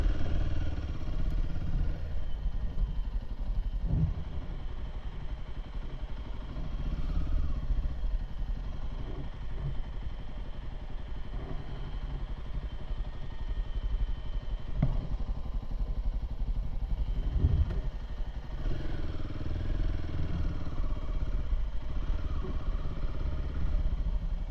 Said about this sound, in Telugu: బైక్ సౌండ్ ఎక్కువ వస్తుంది కదా సార్